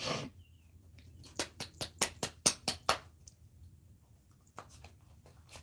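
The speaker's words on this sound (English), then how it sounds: "I'm about to cut this deck and then I'm going to pour" A thick deck of tarot cards is cut by hand, giving a close run of about eight crisp, rapid taps and slaps, then a pause and a few softer card taps, with no talking.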